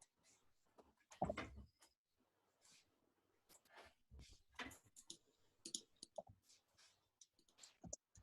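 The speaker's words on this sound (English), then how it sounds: "I'm now going to start typing" A computer keyboard is typed on in short irregular bursts of quiet clicks and taps, with occasional louder knocks between pauses, close to the microphone.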